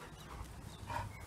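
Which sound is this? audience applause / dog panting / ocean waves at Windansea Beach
dog panting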